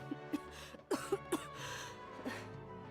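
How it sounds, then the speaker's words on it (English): A female character in the Genshin Impact video game coughs in a quick cluster of sharp, close coughs, then gives one softer cough, over quiet background music. "she's about to cough out a lung"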